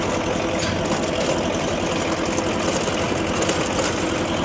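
A Swaraj tractor engine drives a Swaraj rotavator through the PTO at about 1400 RPM in a field, giving a loud, steady, close mechanical drone with a fast chugging pulse and no voices.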